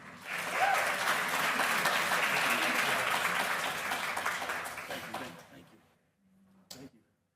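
An audience at a cancer caregiver community event breaks into steady applause for about five seconds, then it fades into quiet with a brief knock or clunk near the end.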